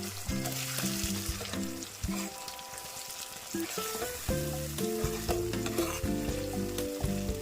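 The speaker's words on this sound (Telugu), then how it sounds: "ఆ మిశ్రమాన్ని ఇందులో వేసుకోవాలి ఒకసారి ఇలా కలుపుకుందాం" Ripe red chili and tomato paste stirred in a hot pan, steady sizzling and spoon scraping over a background of sustained musical tones, no speech.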